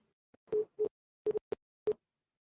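Short electronic telephone tones beep in a sparse, uneven sequence right after a customer support call is hung up, fairly faint and clean with silence between beeps.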